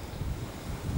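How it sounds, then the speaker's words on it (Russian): Wind rushes against the microphone in a brief, low, continuous rumble, with nothing else standing out. "У нас поднялся еще ветер, продолжает дождики моросить, прохладно"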